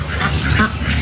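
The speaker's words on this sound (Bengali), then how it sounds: "দেশি হাঁস" Native domestic ducks in a village wood garden quack loudly and close by, a short burst of nasal calls.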